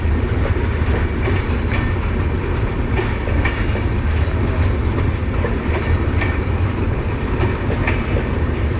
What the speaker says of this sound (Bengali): পঞ্চগড়ের উদ্দেশ্যে ট্রেনটি ছেড়ে যাচ্ছে জয়দেবপুর স্টেশন থেকে